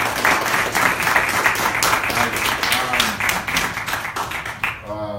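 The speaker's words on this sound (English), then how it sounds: "Let's give Rob a big round of applause" A neighbourhood association meeting audience claps for a state representative, a lively round of applause with distinct individual claps that fades near the end as a voice begins speaking.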